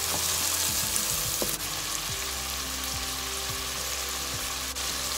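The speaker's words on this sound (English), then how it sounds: "Add the ham and cook for 3 minutes." Ham fries in a pan with salted garlic and onion for sweet Filipino spaghetti sauce, giving a dense, steady sizzle that stays close and loud throughout, with no voices.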